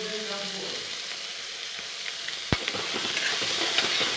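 Turmeric frying in hot oil while being stirred makes a steady, close sizzle, with a sharp clack of the utensil midway and light scraping and crackle afterward.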